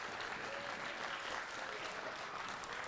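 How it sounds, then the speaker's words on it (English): Audience at a school event applauds in a steady, even wash of clapping, faint and sustained throughout. "So give them a huge round of applause"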